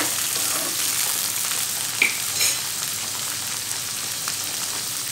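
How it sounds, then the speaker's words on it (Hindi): Eggplant for aloo baingan fries in a pan with a steady close sizzle, a few clinks and scrapes as it is stirred and turned over, no voices. "बैंगन को भी थोड़ा सा हम ऊपर नीचे करेंगे"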